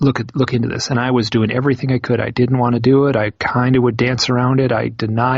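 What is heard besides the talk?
No everyday noises stand out.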